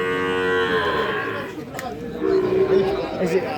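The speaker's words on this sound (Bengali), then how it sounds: "এই পাশে দেখতেছি একটা গরু দেখা দেখি চলতেছে" A Sahiwal cow moos in long, drawn-out calls at a cattle market in Faridpur, with people chattering nearby.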